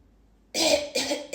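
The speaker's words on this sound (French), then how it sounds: "ça m'a donné envie de tousser" A person coughs during a quiet guided emotional-release practice, two or three close, fairly loud coughs in quick succession after a moment of silence.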